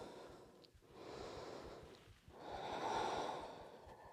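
Soft breathing during a yoga high lunge, two slow airy breaths rising and falling, quiet and close with no talk.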